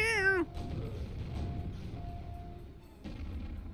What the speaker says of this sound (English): I don't like that the scorpions sound like cats